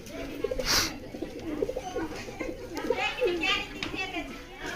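Pigeons coo softly in low, rolling bursts from a loft at the Umarpur bird market in Murshidabad, amid a busy backdrop of children's voices and chatter, with a brief sharp noise early on.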